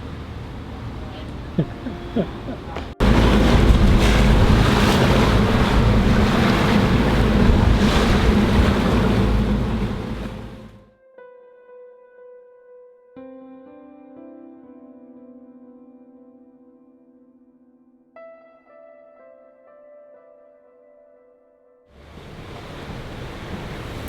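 Rough sea waves and wind roar loudly around an FPB 78 motor yacht for about ten seconds, then give way to a quiet stretch of soft tonal sounds before the rushing surge returns.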